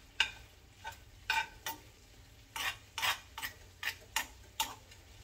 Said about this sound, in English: And then the garlic is infusing with the hot oil.